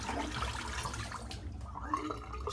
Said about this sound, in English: let's get this water out. Get the brush cleaned, get the soap cleaned.